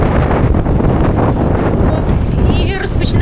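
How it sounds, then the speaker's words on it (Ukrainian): Strong, gusty wind buffets the microphone outdoors during a rainstorm in Vietnam, a loud, continuous roar filling the whole clip. "такий досить неприємний сильний вітер"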